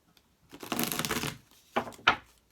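Tarot cards being riffle-shuffled close up: one long fluttering riffle followed by two short snaps as the deck is squared.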